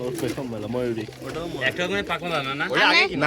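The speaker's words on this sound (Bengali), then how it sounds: "আজকের কবুতর গুলো যা কিনেছি" Fancy pigeons at a home loft coo repeatedly in soft, rolling calls close to the listener, overlapping one another in a busy stream of throaty burbles.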